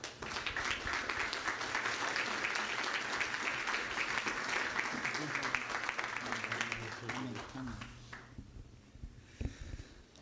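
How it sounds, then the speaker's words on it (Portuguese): An audience at a televised ADHONEP testimony evening gives a sustained round of applause to welcome a guest; the clapping stays loud and even for about eight seconds, then trails off into quiet. "Vamos receber o nosso convidado com uma salva de palmas."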